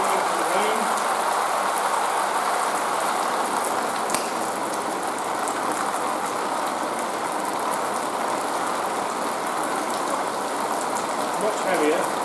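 Heavy artificial rain effect for filming, water from a rain rig pouring in a dense, steady, loud hiss with no breaks, close by.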